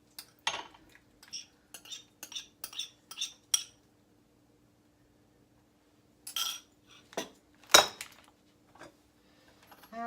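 A spoon clinks and taps against a bowl while a spicy sesame and bird's eye pepper sauce is mixed, sharp, close metallic ticks in quick bursts, then a pause and a few louder knocks, with no talking.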